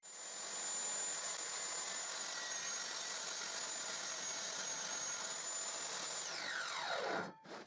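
A power saw whines steadily while cutting the short sides of a reclaimed wood box, a continuous high-pitched roar that winds down sharply at the end before a short final burst, close and loud with no talk.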